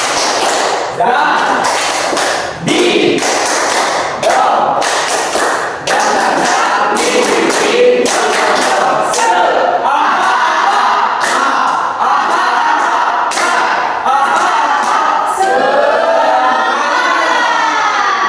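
A group claps in rhythmic patterns while voices chant along loudly, the beats punctuating a lively sung chant.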